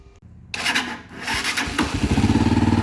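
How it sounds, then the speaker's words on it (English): An engine with dual mufflers is cranked on starter fluid: a brief whir of the starter, then it catches and settles into a loud, steady, throbbing idle close by, with no speech. "we should be able to get some starter fluid in there, turn it over, and with any luck, it should fire."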